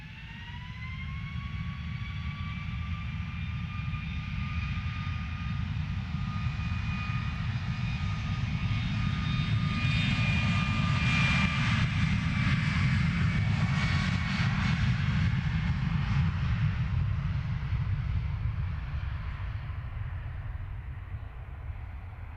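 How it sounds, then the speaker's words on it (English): A Cessna's engine roars steadily through a long takeoff at Luton Airport. The loud, constant drone carries a whining tone that slowly bends in pitch as the plane passes, with no talk over it. "Anyone else notice how weird the engine sound of that Cessna on takeoff?"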